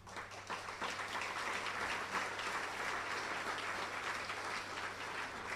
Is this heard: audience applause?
yes